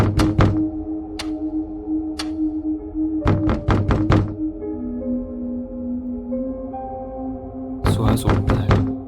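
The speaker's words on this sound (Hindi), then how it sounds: "कोई तो ऐसा है जो लगातार दरवाजा खटखटा रहा है।" Knocks on a door at night in a horror story, coming in bursts of several rapid raps with pauses between them, loud and close over a low steady hum.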